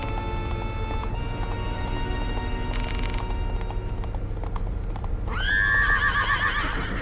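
In the video game Death Mark II, a horse whinnies loudly near the end, a rising then wavering neigh over a steady background hum and faint hoofbeats.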